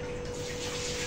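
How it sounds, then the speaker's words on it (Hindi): Running tap water pours steadily over okra being washed, a close, continuous gushing splash with no talk. "मैं अच्छे से ना इसे धो लू जी।"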